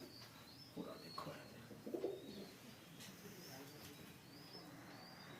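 Pet pigeons in a loft coo in a few short soft rolls, with brief wing flutters and faint background murmuring, quiet and fairly distant.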